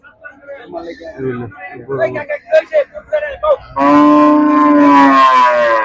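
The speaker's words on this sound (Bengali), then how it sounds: "বিশাল বড় গরু" A person talks briefly, then a very large Australian cow at a cattle market lets out a long, loud, close moo that lasts about two seconds.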